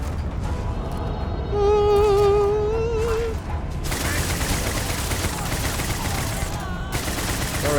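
Gunfire in Starfield's Shattered Space expansion, rapid sustained shooting with dense crackling bursts against bugs that dominates the second half, loud and close, preceded by a tonal rising sci-fi sound and mixed with game voices.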